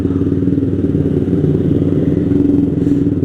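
A Honda CBR150R motorcycle runs along the road with a steady, buzzing mid-pitched engine drone and faint clatter, loud and close throughout, with no pauses or gear changes standing out.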